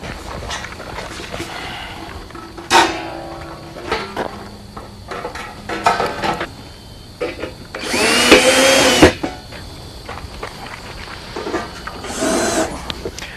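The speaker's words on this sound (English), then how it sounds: "fasten the top plate to the vertical with 3 self-tapping screws" A power drill drives self-tapping screws through the top plate into a vertical of an above-ground round pool, several loud close whirring bursts separated by clicks and handling noise.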